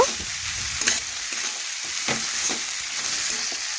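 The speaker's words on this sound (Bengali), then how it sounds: "এটাও ভালোভাবে নাড়াচাড়া করে একটু মশলার সাথে মিশিয়ে একটু কষিয়ে নেব" Cabbage fries with spices in a pan, giving off a steady sizzle. Irregular stirring scrapes run through it, loud and close, and no one talks over them.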